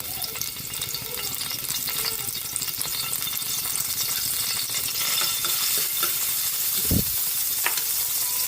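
Garlic sizzling steadily in hot cooking oil for ginisang mais, a close and even crackle with a few stirring clicks and one brief clatter partway through.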